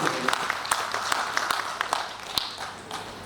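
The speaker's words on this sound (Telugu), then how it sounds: "అవును అనుకుంటే చప్పట్లు కొట్టండి" Audience at a children's literature conference clapping, a scattered run of claps with distinct sharp hits spread across the moment, moderately distant in a large hall.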